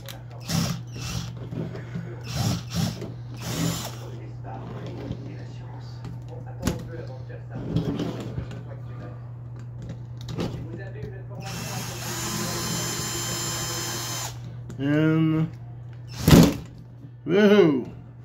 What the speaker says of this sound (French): On va dévisser la tower choc ici.